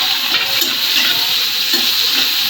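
Chopped onions frying in hot oil, with an even, loud, continuous hiss and crackle throughout and no talking.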